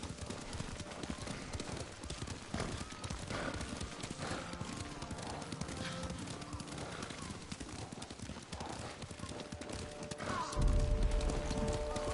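Horse hooves clop in a steady, rhythmic gallop throughout in the game Ghost of Tsushima, over a bed of ambient background sound, with a louder burst near the end.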